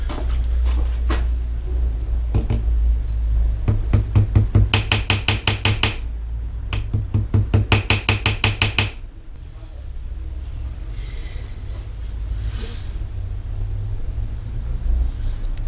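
A metal ring from a Wellerdiek bicycle is hammered straight in quick, sharp bursts of close, loud metallic blows, with a low background hum and pauses between the bursts.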